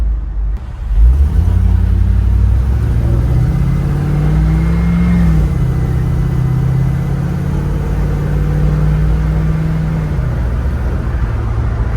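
Steady engine drone of a 1965 Ford F100 pickup truck under way, a loud, close, continuous rumble with a slight rise and settling in pitch as it cruises, no voices.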